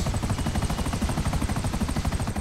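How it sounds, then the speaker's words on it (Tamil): Helicopter in GTA 5 lifting off, a loud, steady rhythmic rotor thump with engine whine running throughout, close and continuous with no voices. "ஹெலிகாப்டர் டேக் ஆஃப் ஆகிடுச்சு கைஸ்"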